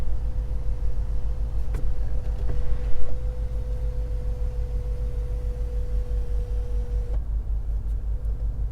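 The electric sunroof shade of a 2019 Range Rover Sport Supercharged Dynamic closes with a steady, thin motor whine lasting several seconds, then stops abruptly over the low hum of the idling cabin.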